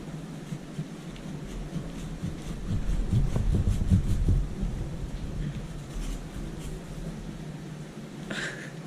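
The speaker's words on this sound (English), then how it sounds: "This knife is rubbish. Let's use this serrated edge one." A serrated knife saws into a pumpkin with rough, close scraping strokes and low rumbling grinds. The sound builds heaviest midway, then eases into lighter rasping.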